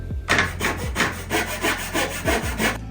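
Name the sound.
crosscut saw cutting wood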